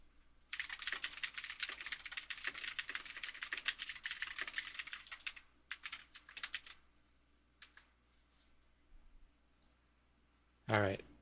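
Fast, continuous typing on a computer keyboard at a game developer's desk, a steady close clatter for several seconds, then scattered short bursts and single key clicks, with a brief voice sound at the end.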